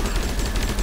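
Rapid machine gun fire in the video game Plants vs Zombies 2 3D, a dense continuous burst of loud shots close up, with no pauses.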